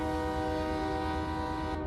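A sustained multi-tone horn from a long intermodal freight train in the Run 8 train simulator game sounds steadily throughout, loud and close, cutting off just at the end.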